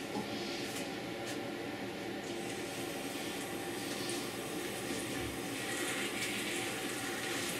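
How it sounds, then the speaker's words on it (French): Tap water running gently from a faucet, filling a tub for a puppy's bath, heard as a soft continuous hiss and trickle at low level with no talk over it. "Jusqu'à ce que je puisse ensuite allumer l'eau, mais alors vraiment pas fort."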